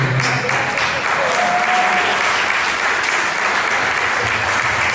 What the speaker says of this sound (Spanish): Se le van a dar un aplauso al Señor que sea muy bueno.